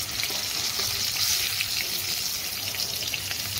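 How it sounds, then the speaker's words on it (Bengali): Potatoes coloured with food colouring fry in hot oil for fish biryani, giving a steady, dense hiss and sizzle close by without pause. "ফুড কালার দিয়ে আমি ডাইরেক্ট ভেজে নিলাম"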